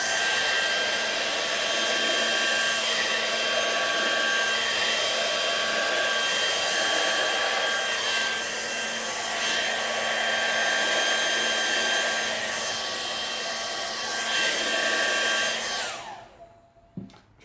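A hair dryer blows steadily over freshly poured acrylic paint, a loud, even whoosh that holds for about fifteen seconds before cutting off abruptly.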